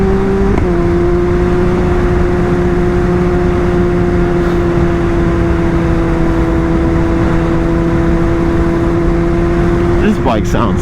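A steady, loud Kawasaki ZX-10R motorcycle engine drone with a constant pitch, holding evenly throughout as the bike cruises at a fixed speed on a commute, with a brief shift near the end.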